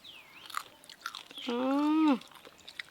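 Close chewing and biting through a meal of crab curry with olives and potatoes and oil-fried koi fish, with soft crunches, followed by a brief hummed vocal sound of appreciation.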